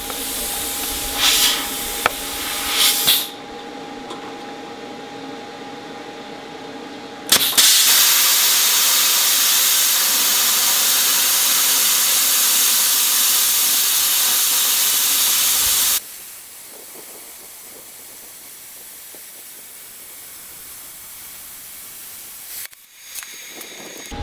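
A YesWelder CT2050 plasma cutter on shop air slices through half-inch steel plate: a short hiss, then a loud, sustained roaring hiss for about nine seconds that cuts off abruptly, followed by quieter background noise and a brief burst near the end.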